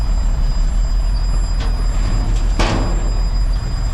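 Semi truck in low gear pulling away slowly, a loud steady low engine drone close by with a couple of brief hissing air bursts partway through.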